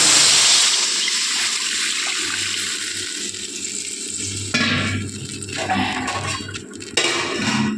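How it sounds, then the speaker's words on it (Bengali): Water pours steadily into a hot pan of fish curry that has been fried down, hissing and sizzling loudly up close, then turning to bubbling and stirring sounds as the pouring stops. "এবার আমি এর মধ্যে জলটা"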